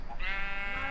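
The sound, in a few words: sheep bleating in Minecraft video game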